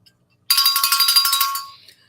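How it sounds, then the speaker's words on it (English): Rapid string of bright metallic rings from a bell, repeated strikes over about a second that fade into a short ringing tail, alone and fairly loud. "There's Grandma Bobby's cowbell"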